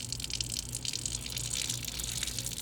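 Water streams steadily from a tap through a Sawyer SP134 filter, giving a continuous close hiss and gush that holds an even level from start to finish, with no talking.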